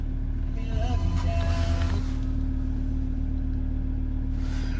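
A 2017 Ford Ranger 3.2 TDCi Wildtrak diesel starts with a brief loud crank and surge, then settles into a steady low idle rumble, close by.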